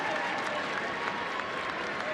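Dense, steady applause and crowd noise fill a soccer stadium during a women's professional match at Soldier Field in Chicago, a broad continuous roar with no pauses.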